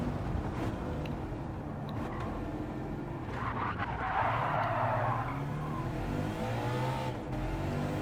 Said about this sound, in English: I brake hard here.